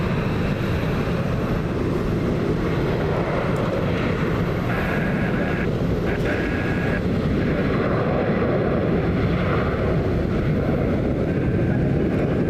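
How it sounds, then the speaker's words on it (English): Southwest Boeing 737 jet departing in the rain, a steady loud roar of engine noise with hiss of spray, continuous and unbroken throughout, with faint higher whine tones drifting in midway. "The Southwest 737 heading out."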